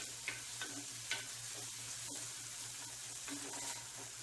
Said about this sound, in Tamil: தக்காளி இந்தளவு வதங்கினா போதுங்க.